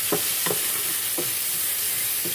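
Carrots and onions with cumin stir-frying in a hot pan, a dense continuous sizzle broken by a few regular scraping strokes of a spatula, close and loud.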